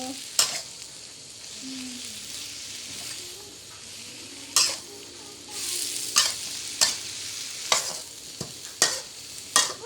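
Mixed vegetables and pork sizzle in a hot pan as a utensil stirs and scrapes, with a steady frying hiss and repeated sharp clanks of spatula on metal, close and loud.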